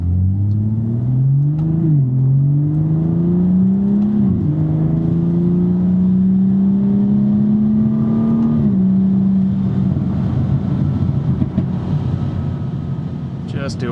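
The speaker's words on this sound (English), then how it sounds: "little quarter throttle pulls there, letting it rev out and breathe a little bit better so we're not lugging the engine" BMW 440i Gran Coupe with the B58 engine revving through gentle quarter-throttle pulls on a rainy road, loud smooth engine note climbing and dropping several times inside the cabin, with someone talking over it.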